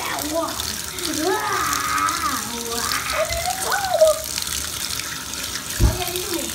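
Tap water runs steadily into a salon sink while hair is rinsed, a constant close gush with a voice talking over it and a brief knock near the end.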